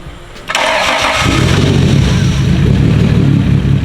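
A car engine cranks and catches with a sudden jump in level, then settles into a steady, low idle that carries on alone and close by.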